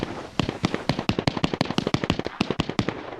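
Rapid series of sharp, muffled pops in an irregular burst, distant gunfire beyond 100 meters in DayZ 1.28, cracking repeatedly for a few seconds.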